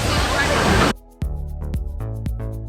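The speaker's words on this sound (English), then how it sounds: "Then you got the water fountain going." At Animal Kingdom in Walt Disney World, a water fountain gushes as a loud, dense rush that cuts off abruptly, leaving a musical background with sharp percussive hits.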